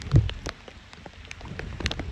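Rain patters on a farm with scattered drops and light crackling taps, plus a soft thump near the start and no voices.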